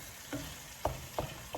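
Squid adobo with bay leaf, black pepper and ground pepper being stirred in a pot: a few soft scraping strokes spaced about a third of a second apart over a low, faint sizzle, with nobody talking.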